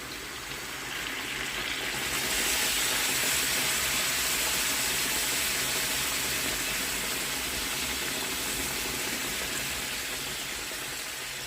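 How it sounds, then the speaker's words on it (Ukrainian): Plain water pours into a pot over pork belly, a continuous broad rushing splash that swells after the first couple of seconds and holds steady for the rest, close and fairly loud with no talking. "заливаємо звичайнісінькою водичкою"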